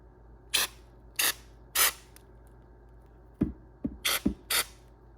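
Bursts from a texture sprayer spatter knockdown texture onto a wall patch, three sharp hissing puffs followed by a cluster of four more, fairly close, with quiet pauses in between.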